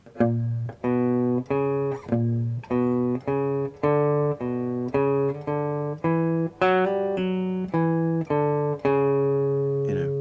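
A guitar plays a steady run of single notes climbing and falling through a harmonic minor scale in even groups, clear and alone.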